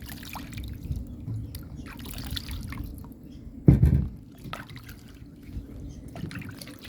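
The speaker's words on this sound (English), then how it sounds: "I just have to wash them off" Root vegetables are washed in water before peeling for Jamaican red peas soup with pig tail and cow skin. Near, gentle trickling and sloshing continues throughout, with one brief louder splash partway through.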